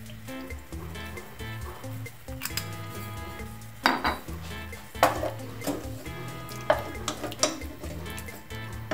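Meat cooking in a pan with soy sauce and rice vinegar, giving a steady sizzle and frying hiss under repeated clinks and scrapes of a utensil against the pan.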